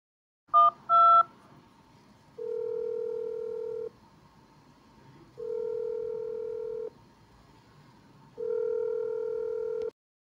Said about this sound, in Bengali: রাখহরিকে চা করতে বলে আমার উকিল বন্ধু রণেন্দুকে একটা ফোন করলাম।